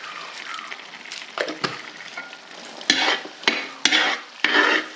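Beef varattu with coconut milk and pepper powder stirred in a pan: a close, crackling sizzle broken by several sharp spatula scrapes and knocks against the pan.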